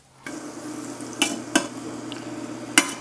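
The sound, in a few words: maple bourbon breakfast sausages frying in a pan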